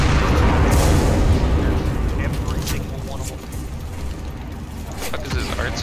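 Artillery strike explosions in the World War II shooter Enlisted, heavy booming blasts with deep rumbling that roll on and decay across the moment, a player talking over them.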